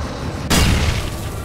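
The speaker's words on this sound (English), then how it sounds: "It's like a flash bomb." Single sharp, loud burst of a flash bomb exploding in the Alan Wake video game, followed by a decaying crackling wash of sound with no speech.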